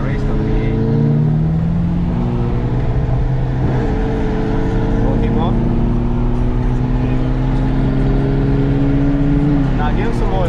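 A Dodge Challenger V6 runs at night alongside a V8, its engine droning loudly and steadily with rising and falling pitch as it revs, with people talking over it throughout.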